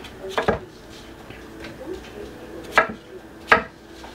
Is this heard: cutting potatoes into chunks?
yes